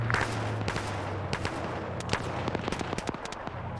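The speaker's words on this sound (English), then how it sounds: "Oh, there's the CSU firing." Gunfire in a Russian-themed military video game, rapid cracking shots and bursts rattling over a steady low rumble, moderately loud and continuous.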